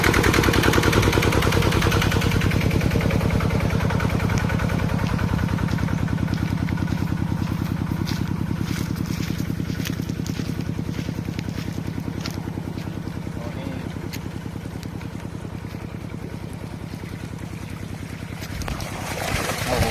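A small engine driving a 6-inch water pump drones steadily and loudly throughout with a rhythmic chugging, while water rushes beneath it.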